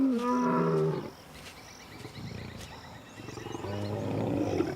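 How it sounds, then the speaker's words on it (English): Roars from young male lions in Lake Nakuru National Park separated on a long trek, one strong call at the start, then a quieter stretch, then another drawn-out roar building near the end, with faint background hiss. "Their roars to find each other carry far and wide."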